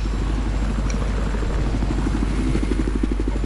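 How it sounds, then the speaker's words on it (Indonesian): Helicopter in a multiplayer video game, a loud, steady rotor thump and engine drone with a regular beating chop throughout. "Ini pakai helikopter."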